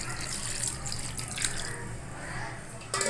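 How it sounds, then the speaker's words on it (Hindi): Cold water pours steadily into a pot of boiled soybean chunks with a broad rushing splash, ending with a brief clink. "इसमें हम 1 लोटा पानी ठंडा डाल देते हैं"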